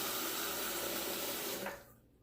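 Tap water runs steadily into a sink to wet a glycerin shaving soap for lathering, a close, even rush that cuts off near the end.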